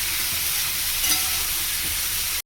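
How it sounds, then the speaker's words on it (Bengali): A pan of cauliflower, potato and prawn curry is stirred over heat, with a continuous close sizzle and a scraping, shuffling texture throughout. "এবার তো নেড়ে ঢেকে দেবো, এটা কম আঁচে হবে, ধীরে ধীরে হবে"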